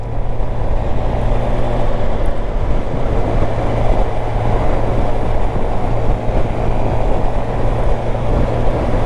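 A motorcycle engine drones steadily on a ride out in the UK, a constant low hum with rushing road and wind noise at an even level throughout, with no talking.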